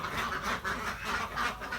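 Laying ducks quack in rough repeated bursts on a duck farm, a dense overlapping chorus of several birds at close range with no talk.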